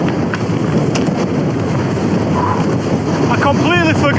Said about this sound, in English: I completely forgot it was forecast to be windy as hell